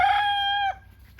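A homestead's lead rooster crows loudly and close by in one strong, sustained call that breaks off sharply at the end, followed by quiet.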